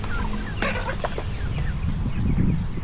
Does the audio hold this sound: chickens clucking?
yes